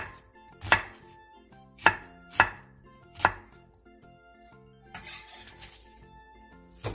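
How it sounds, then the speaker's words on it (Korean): A knife cuts an onion into thick strips on a cutting board, giving four sharp, evenly spaced chops, then a softer scrape of the pieces. "양파 1개를 1cm 정도 두께로 채 썰어주세요"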